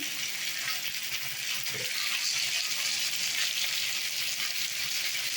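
Tomatoes and green chillies with ginger paste fry in a pan, giving a loud, close, continuous sizzle with a faint stir scrape partway through and no talking.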